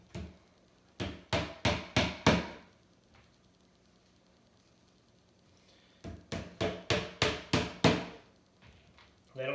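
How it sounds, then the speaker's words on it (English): A small picture-hanging hammer drives nails into a desk in two quick bursts of about six sharp, ringing taps each, close and loud, separated by a quiet pause. "this is a little baby hammer we got for hanging pictures"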